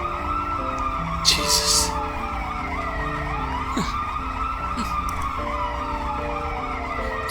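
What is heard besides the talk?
ambulance siren in the video game Turovero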